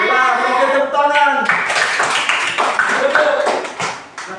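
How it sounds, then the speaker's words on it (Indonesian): Classroom applause from a group of students after a correct answer, a dense burst of hand claps that fills the room and tapers off toward the end, with voices mixed in. "Oke, tepuk tangan."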